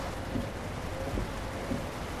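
Continuous rain noise drums on a truck in American Truck Simulator in Portland, blended with a low engine drone, a soft steady wash with no pauses.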